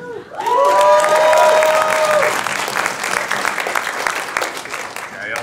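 A room of people at a student app demo day claps and cheers, starting with whoops and a loud shout, then settling into steady, lively applause that continues throughout.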